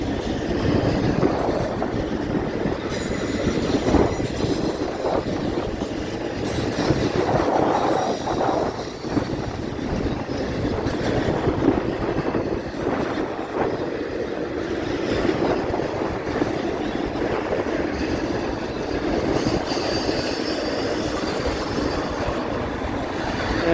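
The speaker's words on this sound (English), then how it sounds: "Florida East Coast Railway over the bridge over the San Sebastian River right here outside of downtown St. Augustine, Florida" Florida East Coast Railway train crossing the bridge over the San Sebastian River outside downtown St. Augustine, a long steady roar of wheels and cars with occasional faint squeals and clatter, continuous throughout with no talk.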